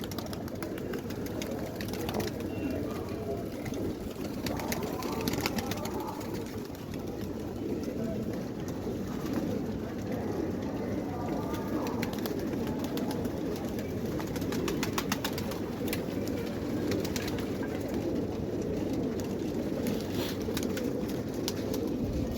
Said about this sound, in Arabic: في حمام تاني هنا اهو